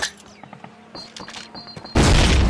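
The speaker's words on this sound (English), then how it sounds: "Throw a grenade into each of the openings before you." A grenade blast in the Call of Duty game hits loud and near after a stretch of quieter clicks and faint tones, its roaring burst filling the final half-second.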